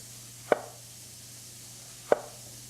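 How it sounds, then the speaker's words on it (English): Two crisp knife strokes slice a red onion into thin rings on a cutting board, spaced about a second and a half apart, close and clear over a faint steady hum. "When I'm cutting these guys, I like to slowly slice them into thin rings"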